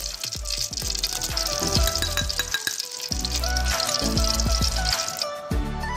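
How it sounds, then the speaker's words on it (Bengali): Oil and ghee go into a hot wok together and hiss into a steady sizzle, with repeated lower clunks and scrapes of the pan throughout, close and fairly loud. "আমার কড়াইটা গরম হয়ে গেল, এখন আমি তেল এবং ঘি একসাথে দিয়ে দিলাম।"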